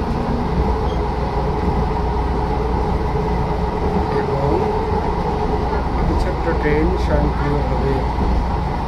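Inside a driverless train running in South Korea, a constant loud rumble of the moving carriage mixes with ventilation hum, while soft voices come and go through the steady noise.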